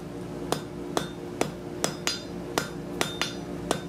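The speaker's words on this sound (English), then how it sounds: "We're just gonna make a couple real quick welds there" A hammer strikes white-hot steel on an anvil during forge welding of branching scrolls, with nine sharp, ringing blows in a quick, slightly irregular rhythm, close and loud.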